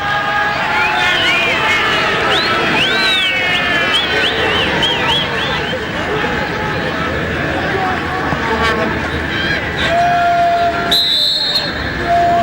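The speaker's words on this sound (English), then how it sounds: "A few whistles in the crowd" Scattered whistles ring out from spectators at a Parramatta Eagles versus Newcastle soccer match, several rising and falling tones over a steady loud crowd roar, with a commentator talking throughout.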